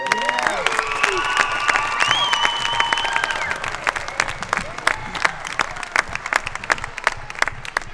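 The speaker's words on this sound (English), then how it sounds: "applause for them" A crowd at a secondary school music concert claps steadily, with whoops and cheers rising over the applause early on, then settling into brisk, lively clapping from many hands across the hall.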